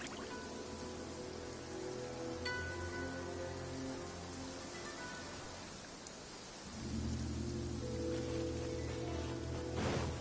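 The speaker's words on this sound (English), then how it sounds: "I love listening to the rain from the courtyard." Steady rain falls on a courtyard in the game Genshin Impact, a continuous dense patter with low rumbling layers that swell louder partway through, no voices.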